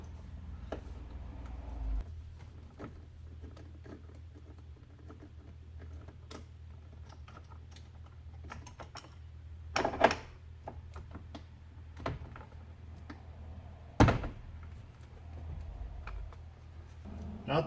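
Faint, scattered clicks and taps come from a Torx driver working two T20 bolts to free the sun visor inside a quiet Jeep Wrangler cabin, with a low hum underneath.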